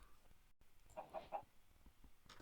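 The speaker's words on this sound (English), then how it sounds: "Why are these chickens following me around?" Minecraft chickens give a few soft clucks in a quiet game scene on a farm world, faint and brief with a little background noise.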